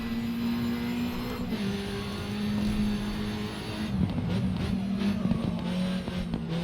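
Peugeot 208 hill-climb car racing up Pikes Peak in the video game Grid 2, a steady engine drone with shifting pitch, tire noise and rougher bursts toward the end, loud and continuous with no talking.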